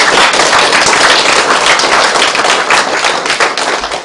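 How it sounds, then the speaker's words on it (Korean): An audience at a Buddhist lecture on the Diamond Sutra claps their hands together, a loud, dense, continuous patter of applause lasting several seconds without letting up. "박수쳐."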